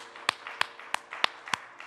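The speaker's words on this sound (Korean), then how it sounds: "우리 주님께 영광과 박수 올려드립니다" During a Sunday church worship service, six crisp, evenly spaced hand claps ring out at a steady quick beat, fairly faint and alone over a quiet room.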